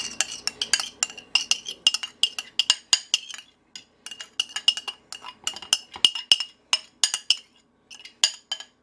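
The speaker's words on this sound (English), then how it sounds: "I'll now stir in the lemon zest." Lemon zest stirred into blueberry swirl cake batter with a spoon, producing quick repeated clinks and taps against the bowl in a steady close rhythm, with one short pause partway through and no voices.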